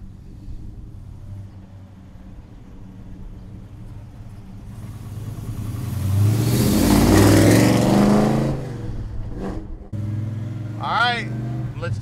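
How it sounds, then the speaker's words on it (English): A 1969 Chevrolet El Camino with a big block V8 idles with a deep rumble, then revs loudly through a gear change before dropping back and pulling again, close and strong. "All right, let's take this big block El Camino for a ride."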